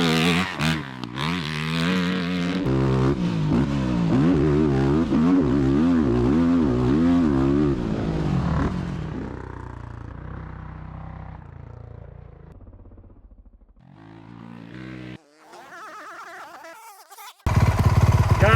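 Honda CRF450R-powered three-wheeler trike engine revving hard while ridden, a loud buzzing rise-and-fall that drops away and returns in bursts, with no talk.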